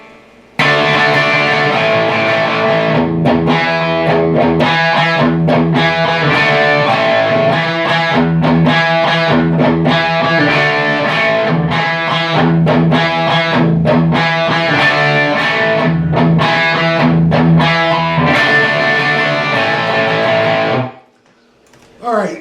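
A distorted electric guitar plays a chorus lick, without pull-offs, in a loud, steady run of driven chords and notes that stops abruptly near the end.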